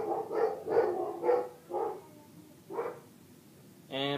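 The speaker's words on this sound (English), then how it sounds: "And my dogs are noisy." Barking from several dogs, heard as a run of five or six short, fairly loud barks at irregular spacing, the last one sounding a little different.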